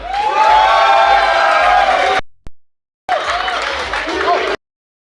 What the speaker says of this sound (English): Round of applause for Sharad.